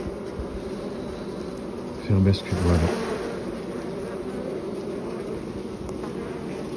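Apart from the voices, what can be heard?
bees fighting a hornet at a beehive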